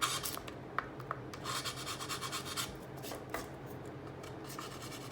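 A handmade storage box for craft supplies is sanded along its side in a back-and-forth sawing motion, producing soft, close, rhythmic rasping strokes with no one talking.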